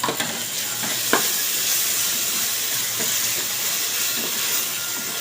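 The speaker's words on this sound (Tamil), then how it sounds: "இஞ்சி பூண்டு போட்டு இஞ்சி பூண்டோட பச்சை வாசம் போகிற அளவுக்கு நம்ம வதக்கிக்கலாம்" Ginger garlic paste sizzles steadily in hot oil with softened onion and tomato while sautéing for chicken biryani, a continuous close hiss with a few faint stirring clicks.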